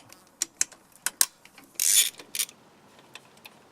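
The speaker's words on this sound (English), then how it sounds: "now we're going to remove the main bolts that are holding on the manifold" A ratchet backs out intake manifold bolts on a Toyota 3VZ-E V6, giving sharp isolated clicks and a brief dense ratcheting burst near the middle, close and fairly quiet, with no talking.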